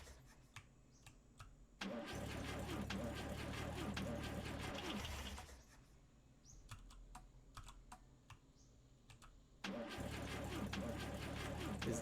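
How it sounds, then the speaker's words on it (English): A car in The Long Drive has its ignition turned and its engine cranks to life, settling into a mid-pitched running rumble. The engine cuts out, then starts again later, with keyboard-like clicking and a voice talking in between. "So turn the handbrake off. Get the ignition going."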